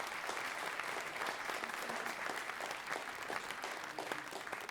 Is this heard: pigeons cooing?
no